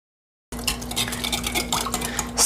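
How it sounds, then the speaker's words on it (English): Fruit and nut cake batter is mixed with thick yogurt in a bowl: steady, close scraping and stirring strokes that start abruptly after a brief silence and run continuously, with no talking. "Then just mix it until the batter is really smooth."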